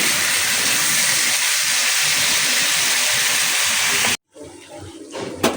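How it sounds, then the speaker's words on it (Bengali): Chickpeas tempering in hot oil for an iftar meal make a loud, steady, broadband sizzle and hiss for about four seconds, then cut off abruptly, leaving quieter kitchen clatter. "বুটটা বাগার দিয়ে ফেলছি।"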